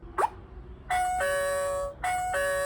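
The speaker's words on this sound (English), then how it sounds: "when someone rings the bell, you can see the picture who rang the bell" A Blusafe smart door lock with built-in camera rings its doorbell: an electronic two-tone ding-dong chime sounds twice in succession, clear and close, after a brief click.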